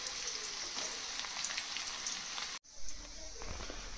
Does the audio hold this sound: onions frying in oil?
yes